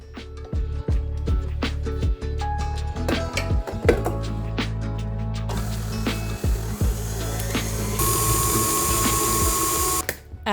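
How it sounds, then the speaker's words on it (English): An electric mixer creams butter with packed brown sugar and granulated sugar for gluten-free cookies, a steady whirring drone broken by clacking and scraping of beaters against the bowl, growing harsher and louder near the end. "Mix the butter and sugar together until creamy."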